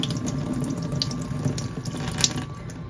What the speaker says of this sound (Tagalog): just wash your egg